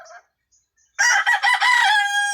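A brooding hen clucks once faintly, then after a short pause gives a loud, drawn-out, strained call that rises in a few pulses and holds at the end, heard close and alone.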